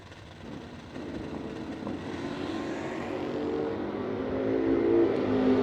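Drag race cars at a no-delay drag racing event, a 1966 Dodge Dart and an orange GTO, with engine roar building steadily and growing louder and closer toward the end.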